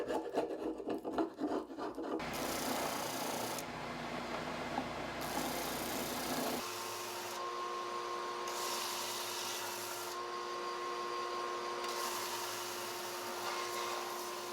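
Wood being sanded smooth on the arms of a handmade swing-arm lamp, a steady close rasping hiss that continues throughout with no talk.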